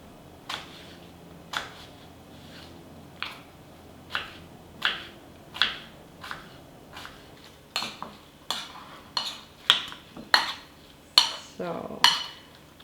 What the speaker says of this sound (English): I will just cut into some nice cubes and also add to my porridge.